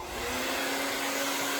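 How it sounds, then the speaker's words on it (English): A handheld blow dryer drying hair at home gives a steady, close, continuous whooshing roar with a faint motor hum, with no voices over it. "blow dryer here."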